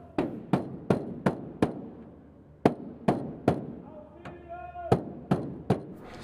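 Knocking and banging on the inside walls of a truck trailer, a series of sharp, hollow thuds in uneven bursts with short pauses, fairly faint and reverberant, with a brief voice heard in between.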